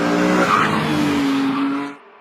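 A kid drives a homemade Formula One style car with front and rear wings, in Tanzania. A loud, close engine hums steadily with a rising whine and tire scrub, then cuts off abruptly near the end.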